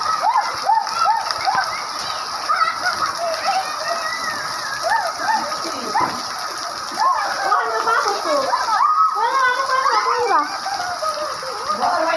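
Steady rain pours onto a flooded courtyard where water has pooled, a dense constant hiss with splashing, while chickens cluck and call intermittently and a person talks over it.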